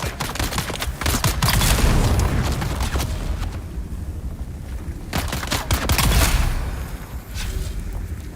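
Sniper fire and other gunshots in the video game Dune: Awakening, rendered as loud, dense bursts of fire with booming impacts clustered in two heavy waves and sharp cracks between them.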